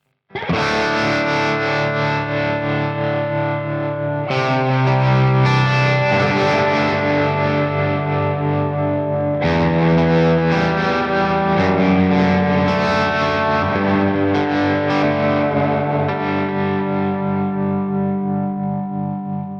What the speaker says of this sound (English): the top control controls delay